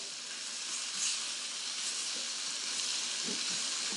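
Tofu frying in a pan, a soft steady sizzle and hiss heard close but fairly quiet, with a few faint crackles and no voices.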